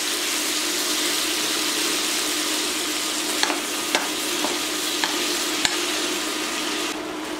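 Shrimp and small squid being stirred and sautéed in a hot pan, a steady broadband sizzle with a few light utensil clicks against the pan, close and continuous with no voices.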